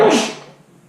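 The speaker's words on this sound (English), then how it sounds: "I'm gonna sneeze." A single sneeze from a person, a sharp burst that fades out quickly.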